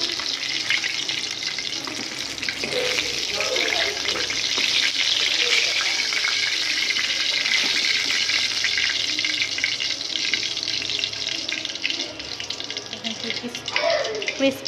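Chicken pieces fry crisply in hot oil in a pan, giving a steady loud sizzling hiss that continues unbroken, with a brief clatter near the end.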